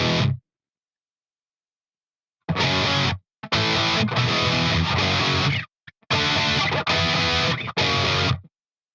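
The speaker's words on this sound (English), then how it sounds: "So that's what my JCM 800 sounds like" Distorted electric guitar through a modeled Marshall JCM 800 amp, played in several loud chunky bursts separated by abrupt silences, dense and saturated.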